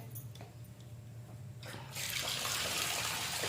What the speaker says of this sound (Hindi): अब मैं इसको डालूंगी पानी में